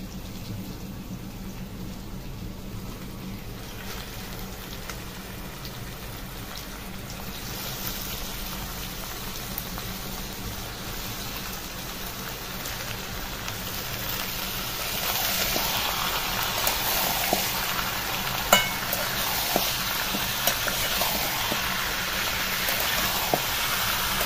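Chicken frying in a pot on a clay stove gives a soft, steady sizzle and bubbling hiss that grows louder and denser partway through, with faint crackles and pops and no talking.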